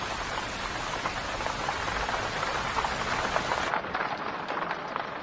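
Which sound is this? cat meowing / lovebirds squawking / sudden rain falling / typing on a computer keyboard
sudden rain falling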